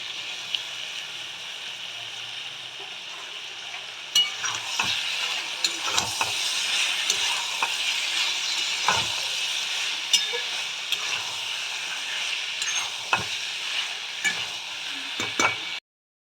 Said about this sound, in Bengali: এবার যে মাছগুলো নিলাম, সেই মাছগুলো হলুদ মাখানো, সেই মাছগুলো দিয়ে দেবো।